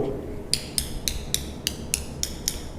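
Old floor tiles in an older house are tapped to test them. About eight sharp, hard knocks come at a fairly even pace over a low background hum.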